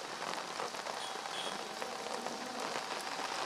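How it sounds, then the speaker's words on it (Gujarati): Steady monsoon rain falls across western Ahmedabad, a dense even patter on surfaces with no voices, close and constant throughout. "અત્યારે વરસાદ છે તે તમામ અમદાવાદના મોટાભાગના પશ્ચિમ વિસ્તારમાં વરસી રહ્યો છે"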